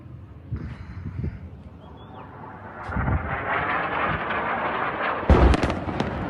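An Israeli airstrike in southern Lebanon lands as a sharp, loud blast near the end, after a long stretch of distant rumbling booms and a steady roar of background noise.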